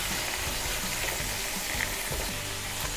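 Meat frying in a Saladmaster pan after being turned over, a steady, dense sizzle that fills the whole stretch with faint crackles and no voices.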